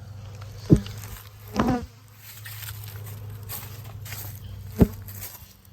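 A low, continuous insect buzz, like bees around a hive, interrupted by a few sharp knocks and a brief rustle nearby.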